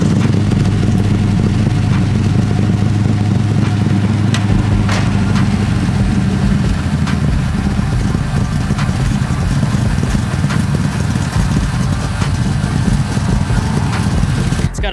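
An LS V8 swapped into a Datsun 280Z idles with a loud, lumpy lope, the deep uneven exhaust pulses rolling continuously and close up throughout.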